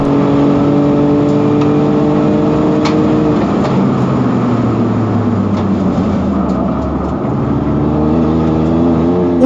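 A circuit-racing Mini Cooper engine drones loud and close in the cabin during an official race, holding a steady rising pitch and then dipping through a gear change without lifting off the throttle.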